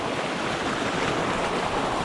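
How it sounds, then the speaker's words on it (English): A tiny creek runs in a steady, close rush of babbling water with no pauses, a continuous hiss filling the scene and nobody speaking. "fishing this tiny little creek"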